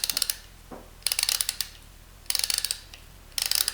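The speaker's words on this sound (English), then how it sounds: "The ratcheting, listen to it." Fine, rapid clicking of a ratcheting screwdriver's ratchet mechanism, heard in three or four close, crisp bursts separated by short pauses.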